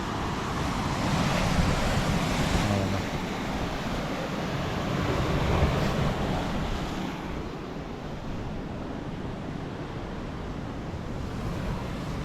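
Sea waves wash continuously against the shore below a coastal fort, a broad, steady surf roar mixed with wind buffeting, swelling slightly and easing off without pause.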